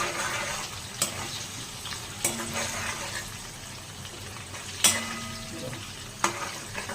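Onions cooking in a pan on a gas stove for green chickpea usal, a steady close sizzle with several sharp clinks of a spoon stirring against the pan.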